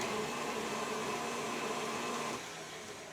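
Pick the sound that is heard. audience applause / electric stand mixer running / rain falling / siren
electric stand mixer running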